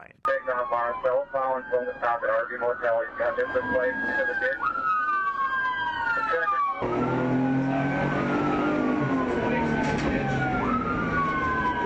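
Police sirens wail and yelp continuously during a high-speed chase of a stolen SUV doing over 115 mph, with loud steady road and engine roar beneath; the siren pitch sweeps up and down throughout.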